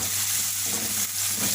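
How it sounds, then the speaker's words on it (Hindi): Garlic ginger paste, sliced green chilies and dried plums sautéing in a pan for chicken seekh kabab biryani, giving a loud, continuous close sizzle with light stirring and no talk. "सौते करेंगे इसको।"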